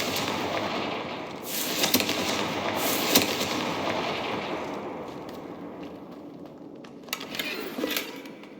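The Confringo fire blast spell goes off in Hogwarts Legacy, a burst of crackling explosive booms with sharp bangs around two and three seconds, then fading rumble and a few more snapping hits near the end.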